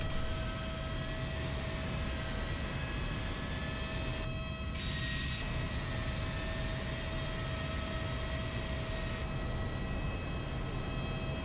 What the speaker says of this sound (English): Okay, so we're coming into landing.